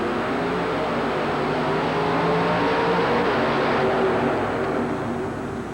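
Gravedigger monster truck racing through a turn on a dirt track inside the Houston Astrodome in 1991, its engine held at high RPM in a loud, steady roar that swells slightly mid-way, with broad crowd and arena noise behind it.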